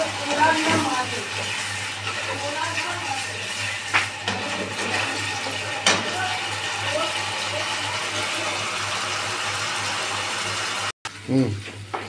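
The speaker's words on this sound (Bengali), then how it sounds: "এই জলটা আমি এর মধ্যে দিয়ে দেবো আন্দাজ মতো জলটা দিয়ে দিলাম" Boiled water poured into a pan of sautéing Gobindobhog rice rushes and gushes loudly and steadily for several seconds before a sudden break, with a low hum underneath.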